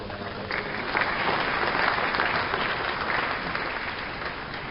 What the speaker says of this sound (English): I hear some applause, so I'll let you applaud